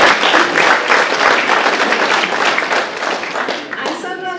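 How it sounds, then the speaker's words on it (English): An audience at a talk on beaver and human coexistence bursts into loud, sustained applause, a dense wash of clapping close by that fades near the end as a voice starts talking over it. "I'm so glad you clapped"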